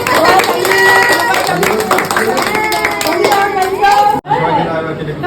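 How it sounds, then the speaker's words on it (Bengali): Guests clapping together at a little girl's birthday party, a loud, sustained patter of hands mixed with lively chatter and voices, including children, with a brief dip near the end. "তালি দাও তালি দাও সবাই জোরে"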